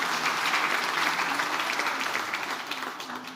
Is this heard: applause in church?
yes